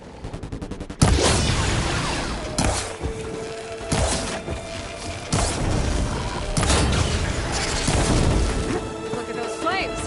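A boulder crashes down amid explosions in the video game Horizon Forbidden West, with loud repeated impacts, rumbling and crackling debris throughout, a burst of heavy smashing landing roughly every one to two seconds and a voice talking underneath.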